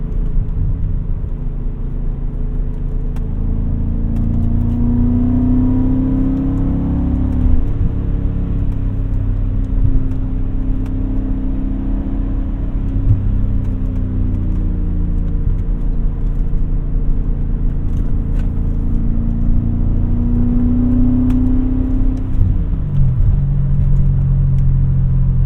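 A 2001 E39 BMW M5 idles while warming up, its engine a steady, loud, low rumble with slight rises and dips in pitch, close and continuous throughout.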